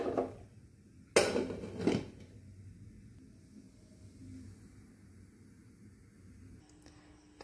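A metal lid clanks down onto a cooking pot while mutton is being boiled, two close, sharp clatters in quick succession, followed by a low steady kitchen hum.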